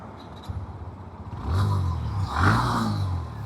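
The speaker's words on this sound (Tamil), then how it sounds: "நம்ம கூட ஹீரோ கிளாமர் எக்ஸ் இருக்கு ஸ்டார்ட் பண்ணுறேன்" A Hero Glamour X 125cc motorcycle engine turns over and catches, then revs up in a couple of rising surges, loud and close.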